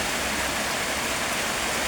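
Steady rainfall, a loud continuous wash of broadband hiss with no distinct drops or pauses.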